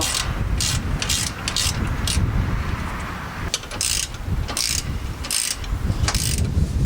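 A ratchet wrench works on the brake lines of a 2016 GMC Sierra truck, giving off quick bursts of loud, close clicking that start and stop in an uneven rhythm while metal parts rub against each other.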